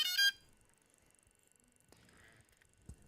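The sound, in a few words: drone startup beeps after powering on battery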